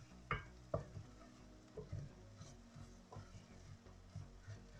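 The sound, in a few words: onions cooking in a pan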